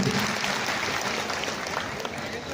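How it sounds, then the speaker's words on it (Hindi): An audience applauds loudly at a Hindi poetry recital of heroic verse, a dense, steady wash of many hands clapping that holds evenly throughout. "एक बार आप सभी जोरदार तालियों से मुझे इजाज़त दें तो मैं पढ़ती हूँ।"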